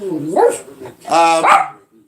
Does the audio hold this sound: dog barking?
yes